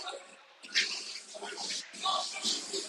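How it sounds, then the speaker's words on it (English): Firefighters pump water onto a burning school building, making a rushing, hissing spray that surges and fades while voices talk over it. "Water pumping now."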